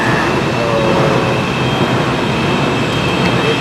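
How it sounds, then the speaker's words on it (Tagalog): An LRT train approaches a station platform in Malaysia with a loud, steady rumble and a faint tonal whine running through the whole stretch. No voices. "Ayan yung LRT nila."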